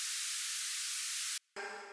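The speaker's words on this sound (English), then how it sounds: "This is also just white noise." White noise used as an effect in a dance-pop music production remake: a loud steady high hiss that cuts off abruptly, then after a brief gap a second, filtered burst of noise with tonal bands follows.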